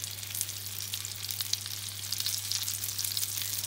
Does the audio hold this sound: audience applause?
no